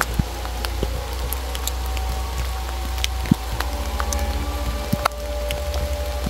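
Rain falls outdoors in the Sumatran mountains as a steady hiss, with scattered drops ticking and tapping nearby and a low constant rumble underneath.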